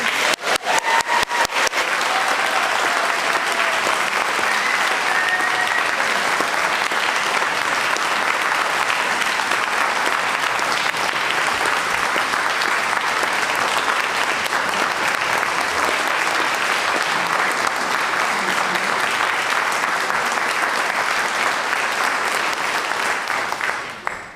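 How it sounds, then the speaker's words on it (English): A church congregation at a Sunday morning Unitarian service claps in a long, even round of applause, loud and full throughout with no talking over it. "So let's have another round of applause for Henry."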